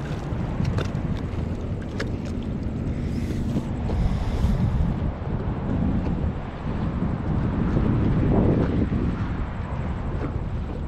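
Ocean waves wash at the shore at low tide at night, a continuous rough rush of water and surf that swells and ebbs, with heavy wind noise on the microphone and no voices.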